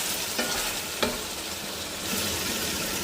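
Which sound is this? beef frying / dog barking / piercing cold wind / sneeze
beef frying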